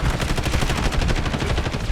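Rapid, sustained automatic gunfire in a video game played on a budget gaming PC with an RTX 4060, a dense unbroken burst of loud, closely spaced shots filling the whole stretch with no talk over it.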